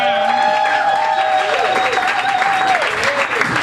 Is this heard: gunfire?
no